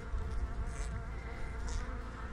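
Bees buzz close by in a soft, continuous hum, with a couple of brief louder passes over a low background rumble.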